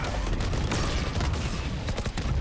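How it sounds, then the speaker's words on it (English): A missile barrage fired in the game Valorant during a VCT EMEA esports match, dense rapid crackling and popping volleys continuing throughout at a loud level. "All missiles away."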